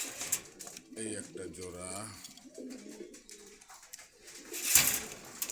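Pigeons cooing at Meradia bazaar in Khilgaon, Dhaka, soft throaty coos close by, mixed with someone talking and market background noise.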